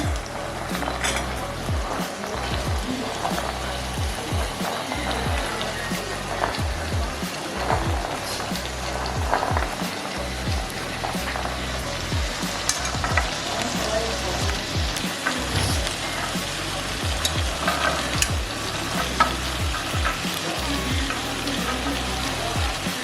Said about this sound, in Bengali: এবার আমি এতে এই কাবলি ছোলাগুলো আমি দিয়ে দেবো।